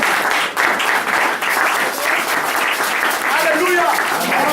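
A church congregation applauding and cheering in praise, a dense, steady wash of clapping with voices mixed throughout, loud and sustained.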